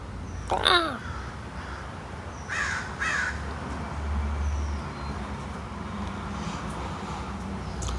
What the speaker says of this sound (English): The crows are usually waiting for me when I come outside.